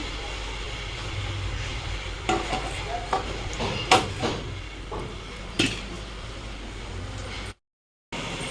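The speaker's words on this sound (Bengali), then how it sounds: "ডালটাকে আগে ফোড়ন দিয়ে নিই" Dal is tempered in a kadai on a home stove, a low sizzle of frying spices broken by scattered clinks and scrapes of stirring, with a short dropout near the end.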